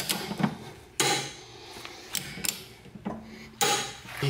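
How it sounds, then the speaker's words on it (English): A torque wrench tightens the top shock-mount strut bolts while Bilstein B14 coilovers go into a Mk7 Golf GTI, giving several sharp, close metallic clicks and knocks at uneven intervals. "So I'm gonna torque that quick."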